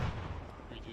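A frag grenade explodes in the military video game Arma 3, a dense, loud roaring blast that fills the whole short moment.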